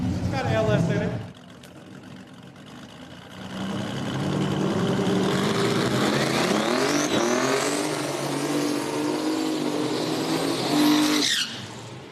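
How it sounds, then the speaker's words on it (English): A little Toyota drag car with an LS V8 swap, no rotary, at an outlaw small-tire race at Beech Bend Raceway Park, runs loud and sustained past a crowd. A brief crowd-noise stretch comes first, then a long roaring pass with rising engine pitch and possible tire chirp. "Mike Smith in the little Toyota, no rotor. It's got an LS in it."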